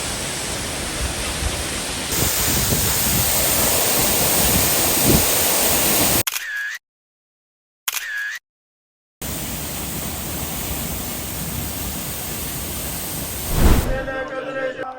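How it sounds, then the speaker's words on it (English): Steady broadband roar of a twin waterfall in Bhutan, loud and close, cutting out briefly to near silence twice midway before resuming, with a short thump near the end. "a twin waterfall."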